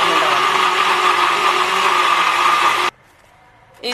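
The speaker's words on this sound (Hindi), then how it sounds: "अब ये जो मसाला है मैं इसको ब्लेंड कर लूंगी मिक्सी" A mixer grinder jar whirs loudly as it blends spice masala, a steady high-pitched motor whine that cuts off abruptly near the end, followed by a short clunk.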